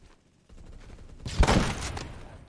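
A burst of gunfire in a Roblox match, a short loud fusillade of rapid shots rising after a quiet start and fading away within a couple of seconds.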